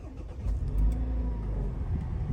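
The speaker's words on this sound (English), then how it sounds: "Let's start the engine." A Perodua Myvi engine starts, with a brief cranking then a low steady idle rumble close by, no voices over it.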